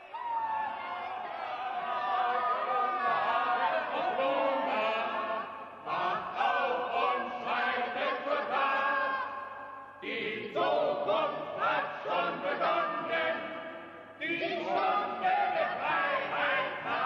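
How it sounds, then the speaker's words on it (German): Large crowd of about fifty fighters cheering and shouting in triumph after seizing the governor's residence in a lunar revolt, a dense sustained roar of many voices with brief dips, loud and continuous throughout. "Der Jubel war groß"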